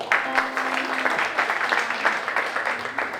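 Audience applause for a panel at a press conference, with steady clapping from a crowd sustained through the whole stretch at moderate volume, and a faint tone humming underneath.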